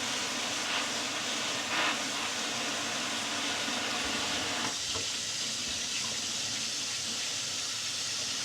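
Warm water sprays steadily from a faucet sprayer, rinsing tomato seeds in a metal strainer at a sink, a continuous hiss that changes tone briefly midway and keeps running close and loud throughout.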